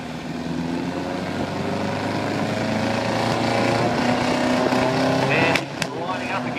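A blue VW drag racing car at a Warwick drag strip gives a loud, steady engine roar that holds for several seconds, with a brief dip and a sharp burst near the end, under an announcer's voice.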